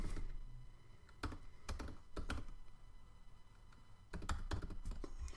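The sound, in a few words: typing credit card details on a computer keyboard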